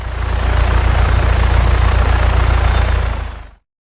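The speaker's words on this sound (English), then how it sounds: "Revello's chopper is Bavarium shielded." A helicopter's rotor and engine thunder close and loud in Just Cause 3, a dense steady roar with a low pulsing beat that holds for about three and a half seconds and then cuts out abruptly.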